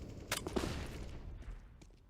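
Counter-Strike rifle spray on the Inferno map, a quick burst of several sharp gunshots early on followed by fainter scattered shots and game ambience fading out.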